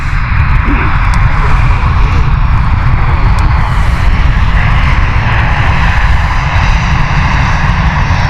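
An airliner at Stansted Airport roars loudly and continuously at close range, a powerful, steady engine rumble sustained throughout with no talk.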